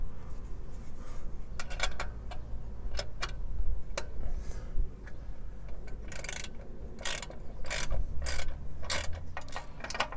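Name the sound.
ratchet socket tightening Ford Ranger shock bolt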